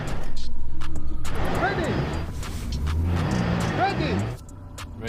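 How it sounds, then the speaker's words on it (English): Toyota Supra and Nismo car accelerate hard in a freeway drag race, engines revving upward in two rising sweeps, loud and close, with people talking and shouting over the roar. "Next up is the freeway drag race"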